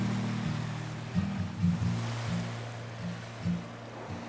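Ocean waves wash onto an empty beach in the early morning, a low, steady surf rumble with a few soft swells rising and falling.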